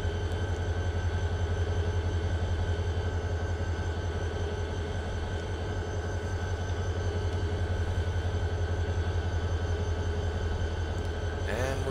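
A freight train's locomotive drones low and steady throughout as it starts to move on the Arvin Branch, with a faint metallic screech near the end and no talking.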